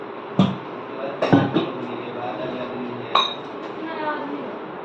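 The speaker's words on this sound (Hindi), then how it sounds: "बर्तन साफ़ करना है और किचन को क्लीन करना है" Dishes and utensils clink and knock during kitchen dishwashing, with a few sharp clatters spaced apart over a steady background wash of running water and household noise, under a voice.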